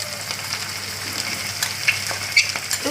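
Coconut, ginger and garlic paste frying in oil with flat beans in a pan, a steady crackling sizzle with a few brief stirring scrapes, close and fairly quiet, no voices.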